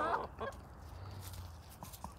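A duck in a backyard garden gives a few short nasal honks, most prominent at the start, then quieter scattered calls over low background noise, moderately near.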